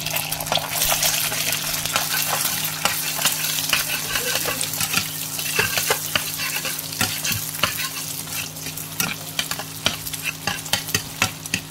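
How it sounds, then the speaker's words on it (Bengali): An egg is scrambled and fried in a pan for chowmein, with a loud, continuous sizzle. Brisk spatula scrapes and taps repeat throughout at close range, and no one speaks. "এরপরে আমি ডিমটাকে হালকা ঝুরি ঝুরি করে নেব।"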